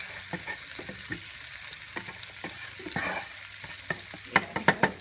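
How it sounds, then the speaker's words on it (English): A spoon stirs a sizzling pot of chicken parmesan sauce with onions, soft scraping and light clacks over a steady frying hiss, close by, with a few sharper knocks near the end. "So I'm just stirring up the pot."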